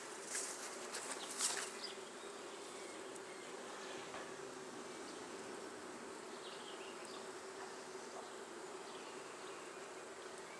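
A honey bee swarm on acorn plastic foundation at a hive produces a steady, low, dense buzzing that fills the whole stretch, with a few closer individual bees passing near the start.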